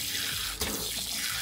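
Water runs from a campervan shower tap fed by two new pumps, a steady, strong, close hiss of flow with a brief splash surge midway, no voices.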